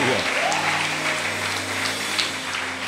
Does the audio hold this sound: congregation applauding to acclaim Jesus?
yes